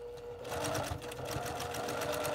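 Sewing machine stitching through a thick seam intersection on a quilt top, a close rapid rhythmic chatter of the needle running continuously after a brief start, no talk over it.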